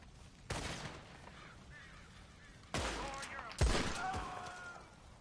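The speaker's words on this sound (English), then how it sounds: "I'll use a revolver headshot" Revolver gunshots ring out in the video game Red Dead Online: three sharp separate bangs spread across a few seconds, each with a short echoing tail, over faint game ambience.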